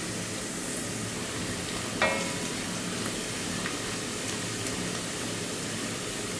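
Onion, dried red chilies and panch phoron fry in a pan for a dal tempering, giving a continuous close sizzling hiss with one brief sharp scrape partway through.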